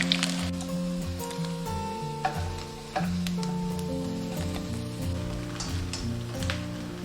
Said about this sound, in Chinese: 炸至这样表面金黄就可以了